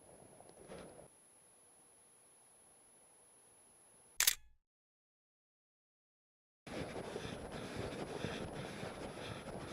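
A single sharp shutter click from a camera snapping a shot of light along a motorcycle ride to Mount Rainier, heard close after soft wind noise, followed by a gap of silence and then steady outdoor rumble.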